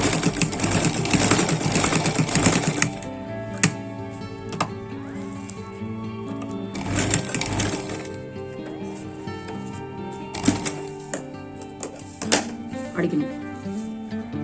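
A sewing machine stitches around the edges of a jute dining table mat in bursts of rapid motor whirring, with short pauses between runs, close and moderately loud, while a person talks throughout.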